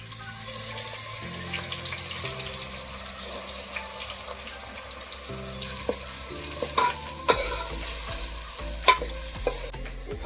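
Chopped green onion fries in hot oil with a steady sizzle while a utensil stirs it, adding scraping clicks and taps that grow more frequent toward the end.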